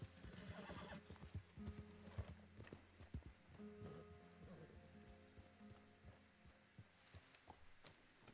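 A horse in the Red Dead Redemption 2 video game trots with steady clip-clopping hooves and lets out whinnies, with light rain pattering in the background.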